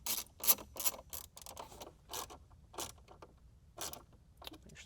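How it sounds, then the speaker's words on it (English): A Torx 20 screwdriver drives a small screw into a Bronco's dash trim, producing quiet, irregular clicks and ratcheting ticks in short bursts, close by and alone. "I'm going to use the Torx 20 for this little bitty screw here"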